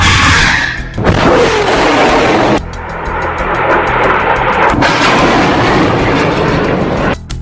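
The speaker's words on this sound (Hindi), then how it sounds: "हमास एक के बाद एक 10 रॉकेट फायर करता है" Hamas rockets fired one after another from Gaza: loud, close roaring whooshes in several abrupt back-to-back bursts, with no voices.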